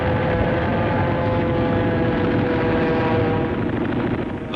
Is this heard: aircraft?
yes